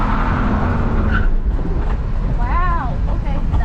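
Drift car engine on throttle at a drift event roars loudly and continuously, a rising-and-falling whine near the end, with road and wind noise underneath.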